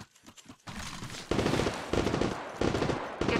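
Rapid automatic gunfire in Apex Legends Mobile, a few sharp single shots first, then loud sustained bursts rattling on in bursts close up, with no talking.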